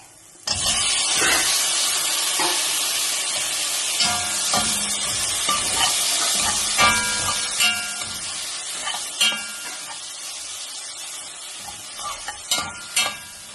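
Tomato goes into frying ginger and garlic for crab rice, setting off a loud, close sizzle that settles into steady frying with intermittent stirring scrapes.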